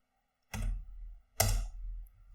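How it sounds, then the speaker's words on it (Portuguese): Two loud, close clattering bursts from a computer keyboard, roughly a second apart, each sounding like a heavy key strike or a quick cluster of keys, in otherwise near silence. "O meu teclado atrapalhando aqui."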